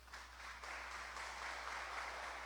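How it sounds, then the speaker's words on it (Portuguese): A church congregation claps together, a faint, steady wash of applause heard over a low electrical hum. "Dê um aplauso ao Senhor Jesus Cristo"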